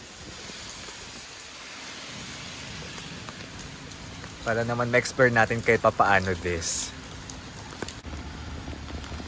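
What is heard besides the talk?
rain falling on street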